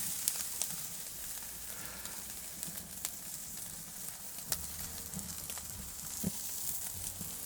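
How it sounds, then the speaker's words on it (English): Wagyu steak fat renders and sizzles on a Kamado Joe grill, a soft continuous hiss with scattered sharp pops and crackles as drips flare in the fire below, fairly quiet and without talk. "you can see we've got a bit of flame there as the fat renders off and burns into the fire"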